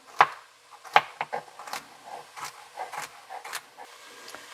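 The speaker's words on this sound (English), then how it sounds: "And so we're just going to chop these up too." Celery is chopped with a knife on a cutting board in a kitchen, with a series of close, crisp, irregular knife taps, the first few louder and the rest lighter and quicker.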